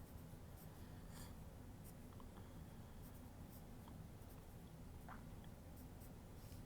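Quiet, close scratching of a pen writing on paper as math notes are jotted down, steady strokes with small taps, alone without talk.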